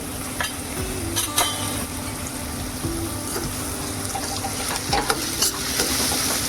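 Spoon stirring turmeric and asafoetida into a hot pan for a val (field bean) birde dish, a steady sizzle with repeated scraping strokes and light clinks, close and continuous with no talking.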